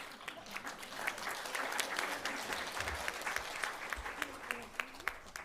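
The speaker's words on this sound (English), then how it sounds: "I want to applaud Renana and the team at SEWA for keeping the torch shining." An audience at a memorial event applauds, fairly faint and distant clapping that fills the room, with a voice speaking over it and a few louder individual claps toward the end.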